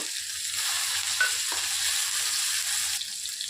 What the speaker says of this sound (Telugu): అల్లం వెల్లుల్లిపాయ పేస్ట్ వేసానండి ఇప్పుడు టమాటీ పళ్ళు వేస్తున్నాను